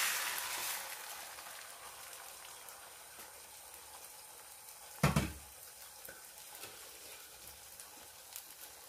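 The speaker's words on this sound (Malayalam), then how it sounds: "അതിലേക്ക് മുട്ട ഒഴിക്കാം." An egg for scrambling goes into hot coconut oil in a pan: a faint, steady sizzle that dies down, a short loud clatter midway and soft crackling after, with no talking.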